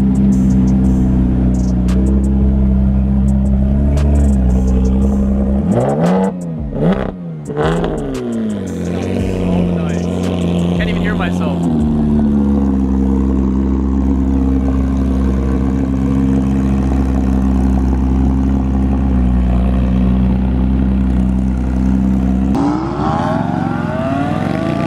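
A Porsche GT3 engine and exhaust rumbles loudly and steadily throughout, with a brief rising rev near the middle before settling back into a sustained drone.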